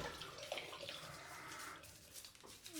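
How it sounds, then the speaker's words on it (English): Tap water runs steadily and softly into a sink while a toothbrush is rinsed with antibacterial hand wash, giving a continuous hiss with small splashes. "Just give it a quick wash."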